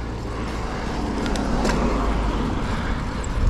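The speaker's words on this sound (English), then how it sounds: "Car coming down" A car descends the mountain road on the Alpe d'Huez climb, its engine and tyres a steady near rumble mixed with wind noise, heard from a bicycle with no talk.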